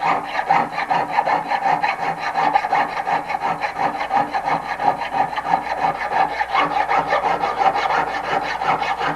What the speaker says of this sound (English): I file around in a circle so that I don't put too many facets onto my work.